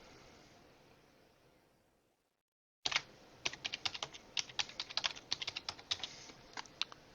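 Typing on a computer keyboard while entering a heading in WordPress, after a brief silence a quick, uneven run of crisp close key clicks, fairly soft and alone without any talking.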